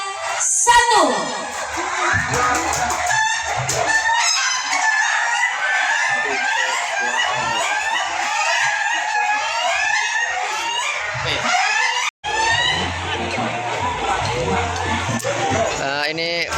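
Several roosters crow loudly and almost continuously, their calls overlapping in a dense, raucous chorus with clucking mixed in.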